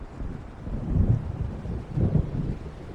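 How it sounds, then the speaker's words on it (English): Low, rolling rumbles of distant thunder from an approaching storm in Alan Wake Remastered swell twice over a steady wind-like bed, with no voices. "It seems there's a storm coming."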